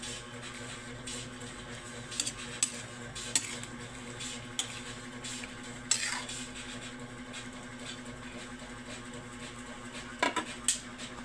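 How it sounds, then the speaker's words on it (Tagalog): A pot of food bubbles steadily on the stove, its low simmering hiss continuous and close, while a spoon scrapes and clinks against the pot in scattered strokes. "Kumulo na idol."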